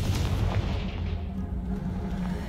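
A Confringo blasting spell from Hogwarts Legacy detonates against a pile of debris, a loud dense boom rumbling heavily through the lows and holding steady across the short span, with no voices over it.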